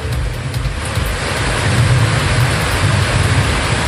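Heavy rain pours steadily over a village area in Dindigul district, a loud dense wash of noise with a rumbling low end that holds without pause for the whole stretch.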